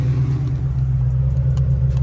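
A Ford Foxbody fitted with a Whipple 3.0 supercharger idling steadily, a deep, even, loud rumble heard close up with no talk.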